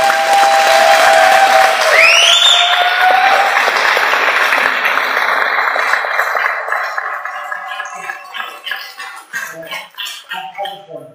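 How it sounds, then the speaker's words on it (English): At the SWTOR Cantina Tour Q&A event, a large audience gives a loud round of applause with some cheers and whistles, dense at first, then thinning into scattered claps. "if we can get them a really, really loud round of applause"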